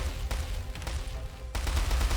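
Gun turrets fire in a real-time strategy battle in the video game War Selection, rapid bursts of gunfire and booming impacts rattling over a dense, rumbling battle din, with a sharp heavy shot near the middle.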